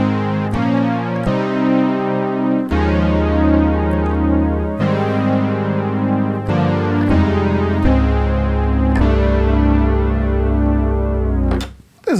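Roland Juno 106 synthesizer playing chords with its chorus effect switched on, giving a rich, wide, shimmering tone in sustained, overlapping notes that change every second or two before cutting off abruptly.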